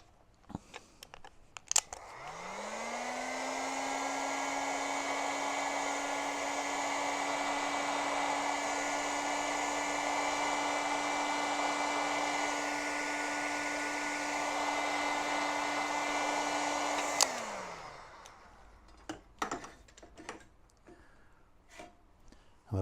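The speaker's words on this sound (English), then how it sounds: "Heat gun." Heat gun shrinking heat-shrink tubing over narrow-gauge cable on a 1/6 scale model halftrack blows with a loud, steady whooshing roar for about fifteen seconds, bracketed by switch clicks and light handling noises.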